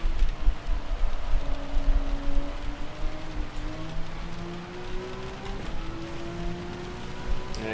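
Steady rain hiss from the Gran Turismo 7 racing game on a wet track, with rising and falling car engine tones running underneath throughout.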